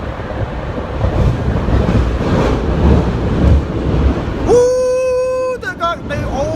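A ten-car BART train bound for Warm Springs runs toward Hayward Yard, giving a loud, steady rumble of wheels and onboard noise, with a sustained tonal whine near the end.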